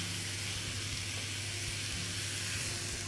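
Mushrooms sizzle in a hot pan with a dense, loud steamy hiss and low rumbling crackle that stays even and continuous, close up with no voices.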